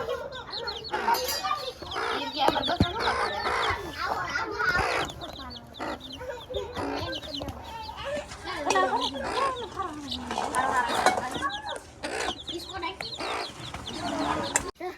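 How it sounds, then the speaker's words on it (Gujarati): Farmyard chickens cluck and call repeatedly while pecking at leaves, near and fairly loud, mixed with people talking throughout. "જો કુકડા છે ને પાંદડા ખાતા હતા"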